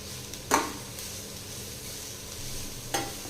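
Carrot and moong dal stir-fry being stirred in a pan, a steady soft sizzle with two brief scraping strokes of the spoon, close and alone.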